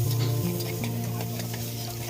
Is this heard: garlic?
yes